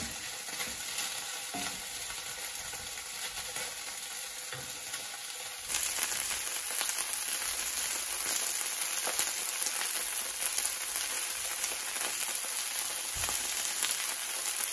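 Red curry fried rice fries on a high flame in a hot pan with a dense, continuous sizzle and crackle that grows louder and brighter partway through as it is spread and stirred.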